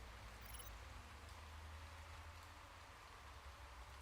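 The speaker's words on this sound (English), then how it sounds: "Rain is not going to be here for long," Soft, steady rain in the video game Motorsport Manager hisses faintly throughout over a low rumbling background, with no voices.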